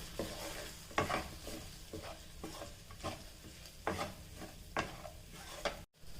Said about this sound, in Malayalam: നമുക്ക് നന്നായിട്ടൊന്ന് ഇളക്കണം ഇതിൻ്റെ ആ പച്ചവാസനയൊക്കെ ഒന്ന് പോയി കിട്ടണം